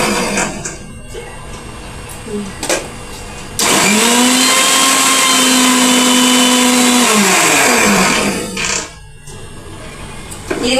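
Mixer grinder churning cream to make ghee: a loud, steady whirring roar runs for several seconds close by, then winds down and stops, with short clatters before and after.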